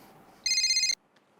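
A telephone ringtone plays once, a short, loud, electronic trill lasting about half a second against a quiet background.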